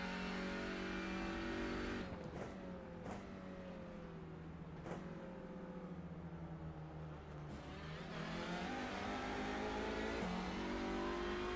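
A TCR touring race car at Virginia International Raceway lifts off the throttle and downshifts into a corner, the engine note dropping with sharp blips between gears, then pulling steadily again, loud and close from onboard.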